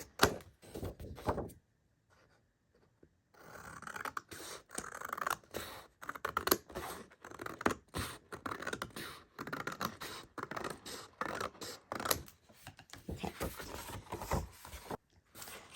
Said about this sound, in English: because my printer prints with borders, I have to cut the borders out.